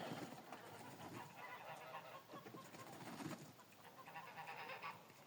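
Young geese of this year's brood, just awake, honk in a faint, scattered run of calls that overlap and come in bursts, heard from a distance.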